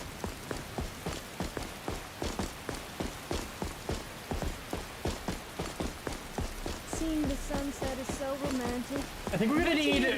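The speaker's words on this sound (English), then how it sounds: "A little bit of rain for our walk over to home base." Rain falls in the video game Skyrim, modded with Conquest of Skyrim, as a steady patter beneath a regular rhythm of footsteps, and a voice starts talking over it near the end.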